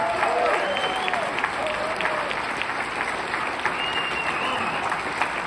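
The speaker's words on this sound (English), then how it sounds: "he deserves a great round of applause" Steady applause from a concert audience greeting a band member introduced on lead guitar, dense clapping holding at an even level throughout, with a faint voice and a ringing tone drifting over the crowd.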